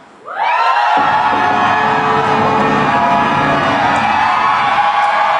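A large crowd cheers and shouts loudly and continuously, a roar that swells in quickly and holds steady throughout.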